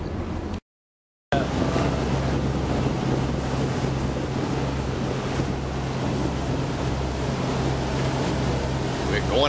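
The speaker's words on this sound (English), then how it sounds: "so we just got on the boat. We are about to take off." A boat's engine drones steadily with wind buffeting the microphone and surf washing around the hull, heading out to sea for deep-sea fishing off Hawaii; loud and continuous after a brief dropout near the start.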